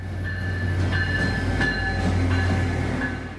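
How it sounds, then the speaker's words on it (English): A Tri-Rail commuter train in Florida rumbles into a station with a steady low roar, faint wheel squeal and metallic clatter, loud and close throughout. "here comes the colourful Tri-Rail train"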